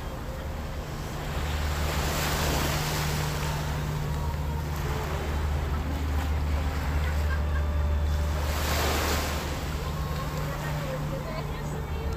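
Surf rolling onto a beach during a New Year's evening outing, a steady broad wash of waves with low rumble throughout, people chatting nearby and a chicken audible in the background.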